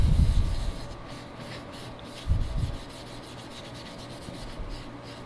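A cloth rubs furniture polish onto shellac-finished wood in short scrubbing bursts, a few soft swishes close up with quiet pauses between strokes.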